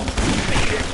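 Rapid burst of gunfire in the zombie action game Guns, Gore and Cannoli, a loud dense fusillade lasting about a second, heard alone.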